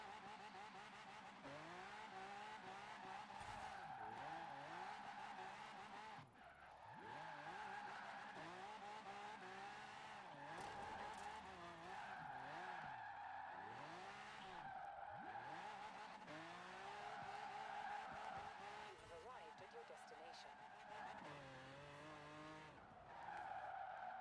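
An all-wheel-drive supercar converted for drifting in Forza Horizon 4 screeches its tires through long slides, its engine note rising and falling steadily with the throttle for the whole stretch, loud and close with no talking.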